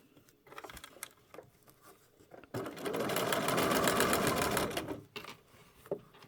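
A sewing machine stitches in an invisible zipper in one steady, rapid run of needle clatter lasting a couple of seconds. Quieter handling taps and fabric shuffles come before and after it.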